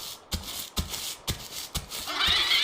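Heavy running footsteps of an AI-controlled dinosaur in the survival game The Isle, hunting at night: four or five loud, evenly spaced thuds close by, followed by a rising rustling noise.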